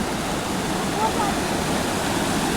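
A rain-swollen river rushing after heavy rainfall on farmland, a loud, continuous broadband roar of flowing water close by, steady throughout.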